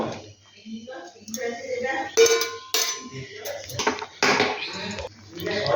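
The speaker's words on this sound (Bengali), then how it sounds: "এবার আমি এইগুলোকে নাবিয়ে দেব, এর মধ্যে ছেঁকে নেব" A pot of blanched potatoes for homemade French fries is tipped into a strainer, making sharp metallic clanks and knocks of cookware, with a person talking throughout.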